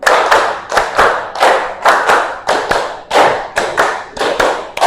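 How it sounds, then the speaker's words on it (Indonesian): Classroom students clap in unison in a rhythmic pattern of repeated groups, a steady run of loud, close, crisp hand claps with no speech. "Tepuk 5 3 kali."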